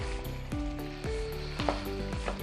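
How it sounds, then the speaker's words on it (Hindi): Desi chicken karahi meat frying with ginger in a karahi: a loud, continuous sizzle under repeated stirring, with metallic scrapes and ringing clinks from the spoon against the pan, close and without talk. "गोश्त हमारा भुन रहा है। अब इसमें अदरक ऐड करेंगे, इसको अच्छी तरह मिक्स कर देंगे"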